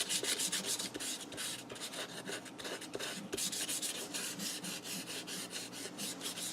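Rhythmic dry rasping of sandpaper scrubbed back and forth over a small matchbook-style notepad, quick repeated strokes close to the microphone with no talking.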